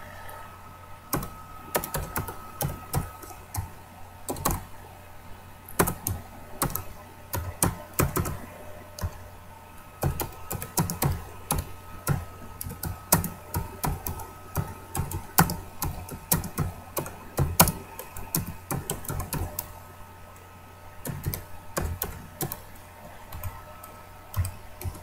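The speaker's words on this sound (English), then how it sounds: "Sorry for the slow typing. Basically, I'm not a good typist." Someone types slowly on a computer keyboard, producing irregular bursts of close, crisp key clicks with pauses between them, while writing a C++ program, with no talking.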